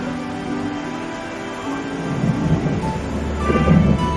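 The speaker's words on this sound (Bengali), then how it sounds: "বৃষ্টি হচ্ছে, মেঘ ডাকছে, বিদ্যুৎ চমকাচ্ছে" Low, rolling thunder during rain, building from a steady wash of rainfall into deeper rumbles that swell toward the end, fairly loud and close.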